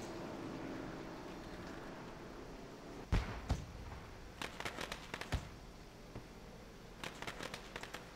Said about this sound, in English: Fireworks go off again for the 14.